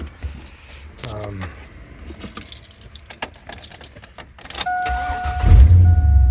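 Keys jangle, then an old Ford truck engine with an exhaust leak cranks and fires up, settling into a loud, rumbling idle with a faint whine.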